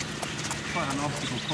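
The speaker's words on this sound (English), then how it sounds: "we're just about to get on some horses to go up into the mountains over there." Horses walking near Snowy River set off a steady clip-clop of hooves that runs under continuous talk.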